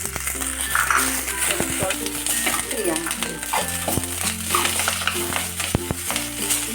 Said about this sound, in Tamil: இது நல்லா வதக்கலாங்க.